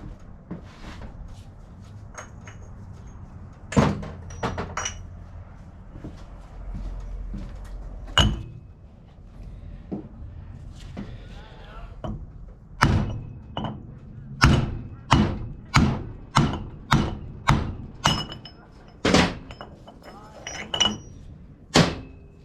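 Metal sockets and tools clatter and clunk as a toolbox is rummaged through during a flange drive seal replacement, with scattered knocks early on and a denser run of sharp, evenly repeated clacks toward the end, fairly close.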